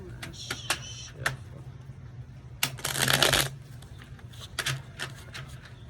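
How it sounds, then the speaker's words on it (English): Tarot cards are shuffled by hand in bursts of quick riffling and flicks, with one longer, louder riffle midway and scattered card taps around it, close up in a quiet room. "One last shuffle."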